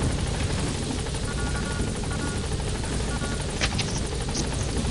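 Helicopter in a Metal Gear Solid game, a loud, steady rotor thrum with constant engine roar throughout, close and unbroken, with no talking.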